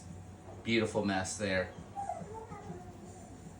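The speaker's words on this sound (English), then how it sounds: "You might hear some standard poodles in the background complaining that they're not getting out to have any fun," Standard poodles whine and whimper in the background of a home kitchen during pasta making, a few drawn-out cries partly overlapped by a person talking nearby.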